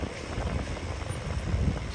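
Steady wind rumbling and buffeting against the microphone, a constant low roar with gusty swells and no voices.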